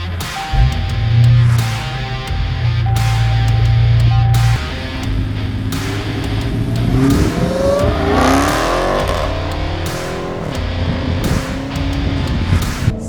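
A 707-horsepower Dodge Hellcat on the road, its engine rumbling loud and close, then revving in rising, sweeping pulls with short breaks between bursts.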